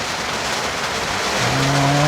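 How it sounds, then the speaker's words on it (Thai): Heavy rain falls as a loud, continuous broadband hiss, and a low droning tone rises in near the end. "นี่ยันฝนตกแบบนี้"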